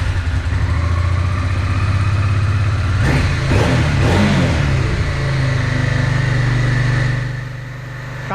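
A Honda NTV650 motorcycle engine running from a cold start with choke, loud and close, holding a steady idle before several quick revs in the middle that then settle back down.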